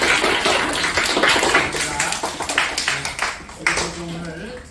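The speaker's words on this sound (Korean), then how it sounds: "우리 선생님을 위해서 우리 박수 한번 하겠습니다." Elementary school students in a classroom lecture applaud their teacher with a dense, rapid patter of many hands that stays strong at first, then thins into scattered claps with some voices mixed in.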